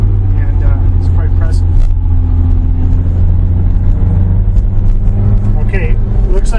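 Ferrari engine with paddle shifting, heard from inside while driving: a loud, steady, low droning hum that fills the whole stretch, with a voice talking over it.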